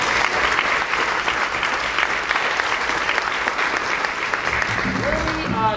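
Loud, sustained applause from the audience at a school fall band concert, dense and unbroken, with a faint voice starting near the end as the clapping continues.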